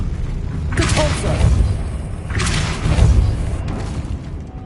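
Depulso force spell in Hogwarts Legacy: two heavy whooshing booms a couple of seconds apart, each a deep thudding blast with a rushing swish, fairly close and loud.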